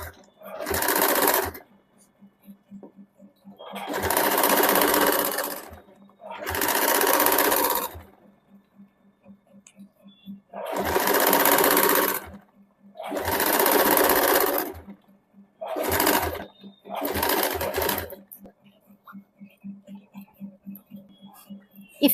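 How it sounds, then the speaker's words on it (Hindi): A sewing machine stitches a seam on a salwar suit in seven close, loud bursts of rapid whirring, each a second or two long and separated by short pauses. "कपड़ा को घुमा के थोड़ी दूरी पे एक और सिलाई चला देंगे"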